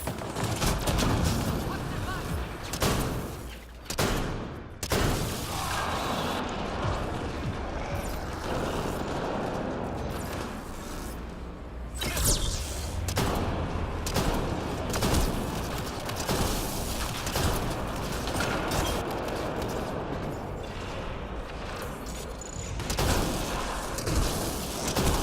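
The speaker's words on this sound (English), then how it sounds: "Probably 3 shots while Cloak with a pistol." A pistol fires while cloaked in the video game Mass Effect Andromeda, with sharp shots cracking over continuous dense battle noise of gunfire and booms.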